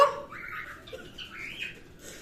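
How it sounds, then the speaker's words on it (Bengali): Faint, short screechy calls of pet birds rise and fall a few times against a quiet room. "আমি যত কথা বলছি আমার পাখিগুলো তত চিৎকার করছে"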